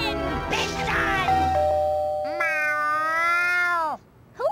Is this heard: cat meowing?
yes